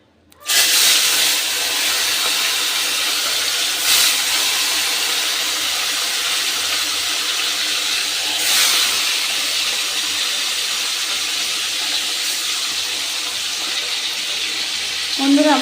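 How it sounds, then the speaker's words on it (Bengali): Bhola fish frying in hot oil in a home kitchen, giving a steady, fairly loud broadband sizzle that runs unbroken for the whole stretch, with a few brief crackling bursts. "এবার আমি ভোলা মাছগুলো ভেজে নেব"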